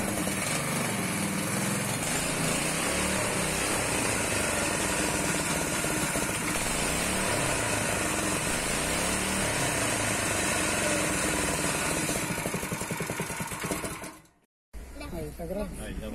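A small stationary engine fitted with a CVT transmission revs steadily and loudly, its buzzing drone filling the clip, with voices talking over it before it cuts out briefly near the end.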